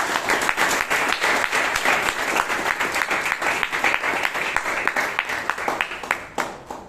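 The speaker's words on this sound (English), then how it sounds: "a big round of applause" Steady, energetic applause at a Toastmasters club meeting in Bangalore, many hands clapping in a brisk, even rhythm that holds for about seven seconds.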